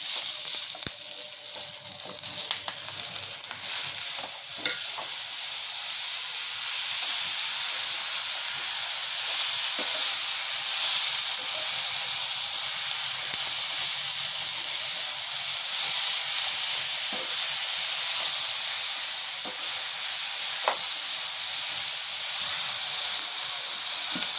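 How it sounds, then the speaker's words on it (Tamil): Onions and tomatoes frying in a pan for mutton curry in a home kitchen, a steady, even hiss of sizzling that runs the whole time with a few faint clinks, no voices. "வெங்காயம் நல்லா வதங்கி வந்திருக்கு. அடுத்து வந்து தக்காளி சேர்த்து போகிறோம்"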